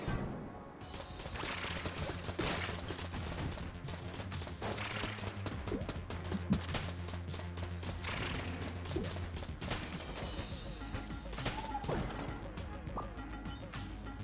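Rapid mechanical bursts of nail gun fire from Enter the Gungeon, a repeated clattering volley through a dense mix of game music and effects with continuous action noise throughout.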